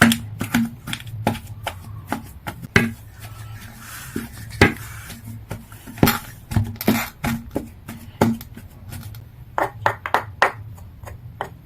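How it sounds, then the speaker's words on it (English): Hot boiled potatoes being mashed in a bowl, a close series of irregular dull thuds and knocks of the utensil against the bowl, some sharper clacks among softer squelching presses, with no talking. "I'm going to use this to mash them"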